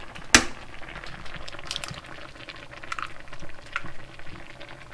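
A pot of water at a rolling boil on the stove while breakfast is made with frozen fish and egg, giving a steady close bubbling patter with light clicks and a brief sharp knock near the start.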